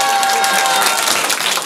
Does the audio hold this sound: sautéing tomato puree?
no